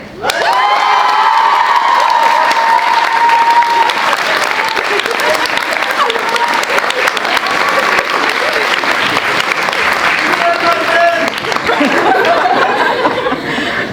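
Loud, sustained applause from a school theatre audience after a performance of Molière's Les précieuses ridicules, mixed with cheering, children's shouts and chatter, and tonal cries and whoops riding over the dense clapping throughout.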